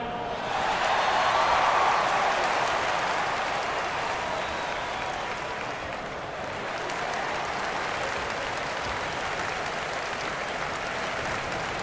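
A large arena crowd at an NBA preseason game between the Timberwolves and 76ers roars and cheers continuously, with clapping and scattered shouts filling a big space, loudest near the start.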